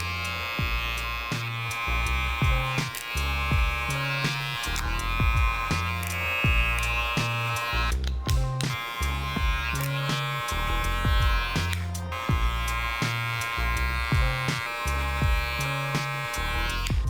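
Electric clippers buzzing steadily up close while trimming a coarse, bushy beard, with the pitch shifting slightly as the blade works through the hair and a couple of brief pauses.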